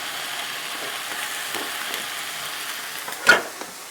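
Chicken with peppers and onions sizzles softly in a pan while being stirred, a steady low frying hiss with a few scraping stirs and one louder clatter near the end.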